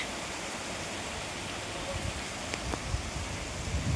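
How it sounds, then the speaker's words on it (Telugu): Heavy rain pouring down during a thunderstorm, a dense continuous hiss with a few faint patters and knocks nearby, steady and moderately loud with no talking. "చాలా ఎక్కువ పడుతుంది వర్షం."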